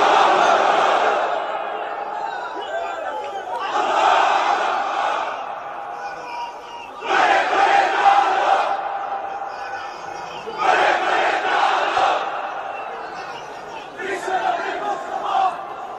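A large gathered crowd at a Bengali religious talk chants loudly in unison in answer to a takbir call, four or five long surging shouts separated by brief pauses, with a lead voice calling between them.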